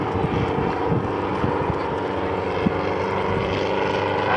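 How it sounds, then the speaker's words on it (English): Schweizer 300 helicopter flying a sideways air show display, a steady loud rotor and engine drone with wind buffeting, continuous and unbroken. "Dragging that helicopter sideways now"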